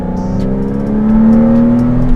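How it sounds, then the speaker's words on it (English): A Porsche Cayman 987.1 accelerates hard up a hill, its engine note rising steadily in pitch and loudness as revs climb, heard close from inside the car with no talking. "I'll just accelerate really hard up this hill"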